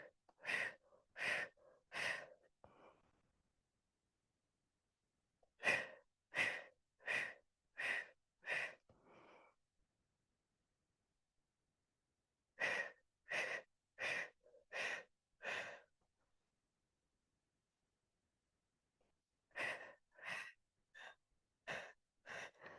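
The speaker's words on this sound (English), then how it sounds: "Exhale through your mouth" Rhythmic breathing during a core fitness workout: four sets of quick, sharp breaths, about five to seven each, close and loud with short silent pauses between sets.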